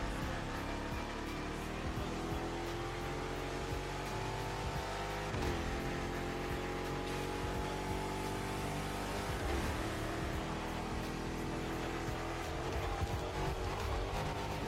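Car engine revving hard as it accelerates out of a tunnel in The Crew Motorfest, a continuous droning roar with shifting pitch, steady and fairly quiet throughout.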